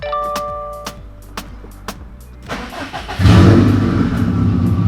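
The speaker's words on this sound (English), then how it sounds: "Let's go try to start the car again and see what happens." A car engine is cranked over after several sharp clicks and short ticking sounds. It then catches and roars loud and close, settling into a rough running sound. The work is part of troubleshooting an AEM air-fuel ratio gauge.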